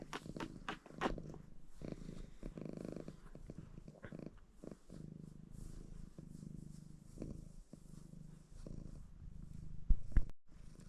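A cat purring while being snuggled, a soft close rhythmic rumble with faint rustling and a louder bump near the end.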